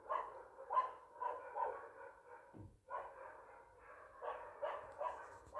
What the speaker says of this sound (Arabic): صوت الكلاب في الشوارع مزعج جدا